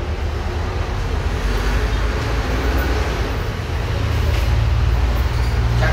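An exhaust fan runs steadily during primer preparation, giving a continuous, loud, even broadband whoosh with a low rumble and no clear breaks.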